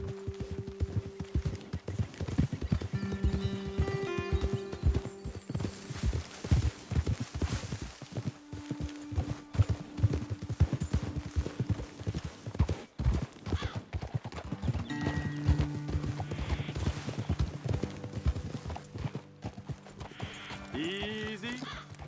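Horses' hooves clip-clop on a ride in Red Dead Redemption 2, an uneven, moderately close trotting rhythm with occasional snorts and neighs, and voices talking briefly alongside.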